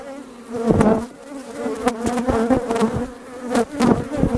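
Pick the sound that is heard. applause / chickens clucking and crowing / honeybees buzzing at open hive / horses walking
honeybees buzzing at open hive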